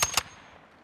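Gunfire in an online first-person shooter, likely a Vaznev loadout match: two sharp, close shots in quick succession at the very start, then a fading tail of faint ambient game noise.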